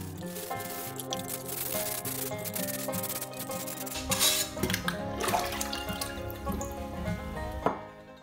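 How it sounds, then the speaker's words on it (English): Bisque-fired pottery is wet sanded with water, giving a steady, close scraping and rubbing against running and dripping water and a busy hum, growing louder and rougher midway. "I like to wash and wet sand the bisque ware in order to get a smooth surface."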